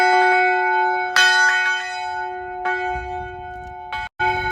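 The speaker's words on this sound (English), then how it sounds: "Is this a functioning bell right here? Like, can I ring this?" A bell at the entrance to an Illinois school football field is struck several times, each strike a bright metallic clang with a long ringing decay, loud and close, and a quick double hit near the end.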